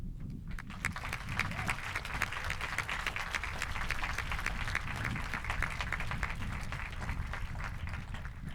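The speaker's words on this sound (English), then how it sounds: "please join me in a round of applause for all of the people who have supported the success that you celebrate today" A graduation crowd gives a round of applause, a broad, steady wash of many hands clapping that starts abruptly and stays even and somewhat distant throughout.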